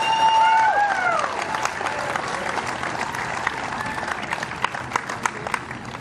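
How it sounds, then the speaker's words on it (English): Audience applause at a STIHL Timbersports Australian Trophy 2021 award ceremony, a steady dense ovation lasting throughout, with a faint tonal whine early on and scattered louder claps near the end. "please give a big round of applause for Katrina Head."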